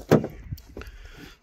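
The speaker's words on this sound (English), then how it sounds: "Let's have a look at the driver's side door." Driver's side door of a 2017 Ford Transit Custom 2.0 TDCi panel van opening, with a sharp mechanical latch clunk followed by a softer thud and a couple of faint clicks, close and alone.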